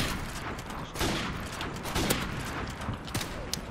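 Gunfire in the video game Modern Warfare Remastered: a short burst of several loud, sharp shots at irregular intervals, close up, over steady game background noise.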